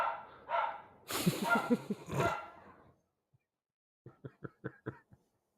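A dog barks and yips at home, a burst of noisy barking followed after a pause by a quick string of four or five short, sharp yaps.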